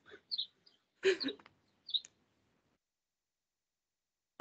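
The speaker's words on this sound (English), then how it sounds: "Every time you turn your sound on, we just hear these like incredible birds." Birds calling outdoors in Arizona, a few short bright chirps and trills scattered across quiet gaps, fairly faint and intermittent.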